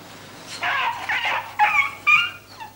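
Dogs awaiting euthanasia at a Bucharest dog pound whimper and yip in several short, high-pitched bursts, close and distinct, with brief pauses between cries and no talking.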